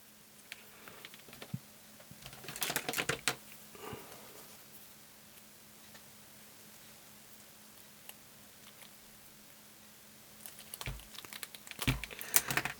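Wire insulation being stripped from cable for a LiFePO4 battery bank, heard as faint close crinkling and scraping bursts at the start and again near the end, with quiet handling between.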